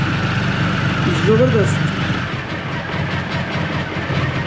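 A motorcycle engine idles just after a cold start, giving a steady, close, low rumble throughout while someone talks over it.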